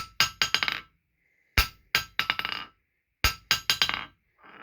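A hammer strikes a solid cast steel anvil in three bursts of quick ringing blows, each with several rapid bouncing rebound hits, sharp and close, with a short ring between groups.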